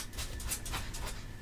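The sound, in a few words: dogs panting and whimpering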